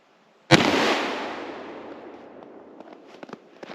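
A single sharp report from a Remington .357 Magnum cartridge fired outdoors, one loud abrupt blast with a long decaying tail and faint clicks afterward.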